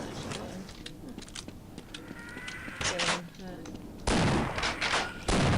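Shotgun blasts and other gunfire from the video game Half-Life Xen come in irregular loud bursts amid game effects, several sharp shots clustered toward the end, with a player talking over the action.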